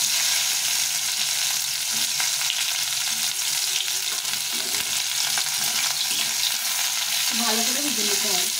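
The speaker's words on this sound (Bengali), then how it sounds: "এখন আমি করলাগুলো ভেজে নেব।" Bitter gourd pieces fry in hot mustard oil with a loud, dense, continuous sizzle up close, steady throughout and without talk.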